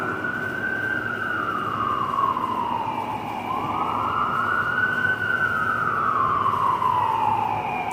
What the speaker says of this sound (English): Dang, the sirens.